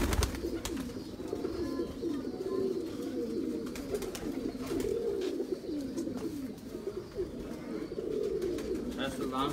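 Pigeons on a rooftop keep up a continuous low cooing, steady and close, with voices talking over it.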